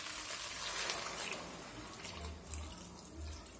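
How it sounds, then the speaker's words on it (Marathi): Measured warm water is poured into a pot of veg pulao rice, giving a steady close splashing flow that runs continuously at moderate volume, with no voices. "आता जे ही मी पाणी टाकलेलं आहे तर याने मी मोजून पाणी घेतलेलं आहे।"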